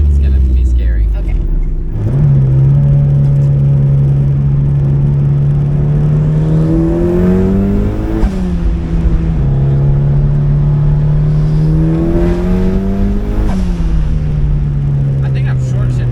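A turbocharged Mazda Miata engine pulls hard through the gears with early short shifts, its rising whine climbing repeatedly then dropping at each change, loud and close inside the car.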